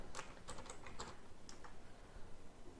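Quick tapping of keys on a computer keyboard while text is entered into an Excel spreadsheet, a short burst of light, close clicks with no talking.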